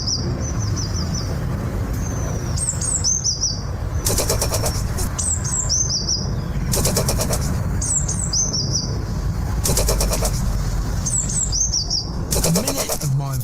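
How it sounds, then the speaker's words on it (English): Birds sing in a garden tree, with bright chirping phrases repeating every couple of seconds over a steady background hum, some calls clear and near, others fainter. "I'm lucky enough to have a nice tree in the garden, which means it attracts lots of birds, so I get to hear that sound quite a lot."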